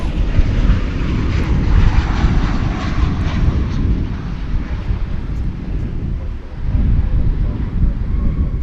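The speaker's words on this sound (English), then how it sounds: "That'll be another 737-800." A Boeing 737-800 jet airliner passing at Dallas/Fort Worth Airport, a loud sustained roar of engines that swells and slowly fades, buffeted by wind noise on the microphone.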